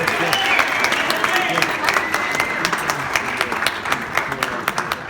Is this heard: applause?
yes